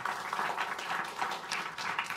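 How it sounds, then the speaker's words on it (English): Audience applause for a panel at a Brookings event on artificial intelligence: a steady, moderately faint patter of many hands clapping that holds evenly for the whole stretch, with no voices over it. "Let's give them a round of applause."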